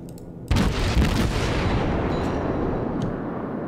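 A heavy naval artillery salvo booms from a German cruiser Nurnberg in World of Warships, one loud blast followed quickly by a second, then a long rumbling decay with faint distant thuds.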